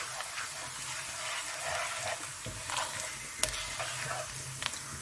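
Dry spices fry in ginger-garlic paste in a pan, a faint steady sizzle with occasional spoon clinks and stirring scrapes scattered throughout.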